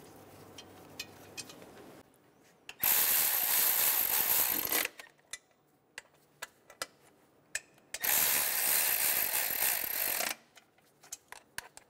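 Ratchet snugging down bolts on a 2003-2007 Honda Accord engine during a knock sensor replacement: two sustained bursts of rapid clicking, each about two seconds long, with scattered tool taps and clicks between them.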